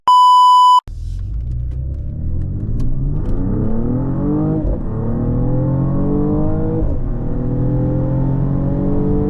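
A 2024 Mercedes-AMG GLE 53's turbo engine revs hard on a late-night drive after a short electronic beep, climbing repeatedly through the gears with rising, loud, close-up engine sweeps and no talking.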